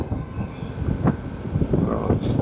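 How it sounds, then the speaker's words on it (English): A freight train rumbles past at close range with a dense, continuous low roar and rattling wheels, steady throughout with faint squeals. "I saw a train going past."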